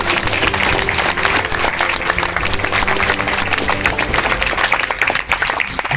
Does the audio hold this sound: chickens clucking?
no